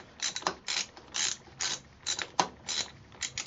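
A hand ratchet works the bolts on a Hayabusa motorcycle master cylinder, giving close, quick bursts of clicking in an uneven rhythm.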